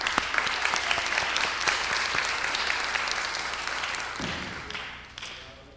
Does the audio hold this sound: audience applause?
yes